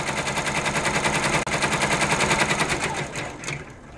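A quilting sewing machine stitches a zigzag around butterfly appliqué fabric in a steady, rapid mechanical rattle of needle strokes that runs loud and close without pause, thinning out near the end.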